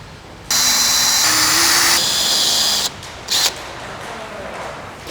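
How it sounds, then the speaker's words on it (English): A stepped drill bit bores 8mm holes for a car front splitter on a 2021 Hyundai i30N hatch, the power drill whining loudly for about two seconds, then a brief second burst. "we're going to take our stepped drill bit and we're going to drill the holes out to 8mm"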